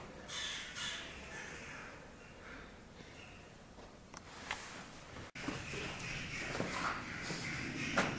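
Crows caw several times, some near and some farther off, with shuffling footsteps and faint rustling in a quiet, echoing space at Harlech Castle.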